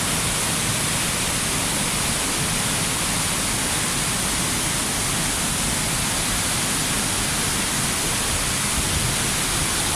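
Yerköprü waterfall near Hadim in Konya pours in a steady, close, full-bodied rush of water that stays loud and unbroken throughout, with no voices.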